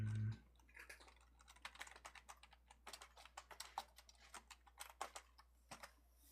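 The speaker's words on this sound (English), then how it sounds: "Do you like the keyboard noises?" Soft computer keyboard typing, a quiet, irregular run of clicky keystrokes at close range, steady throughout after a brief low hum at the start, with no talking.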